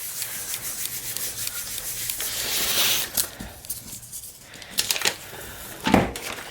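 Paper rubs and scrapes steadily against a surface as excess oil-based printing ink is blotted off, a close, continuous rough shuffling with a few sharper scuffs and taps.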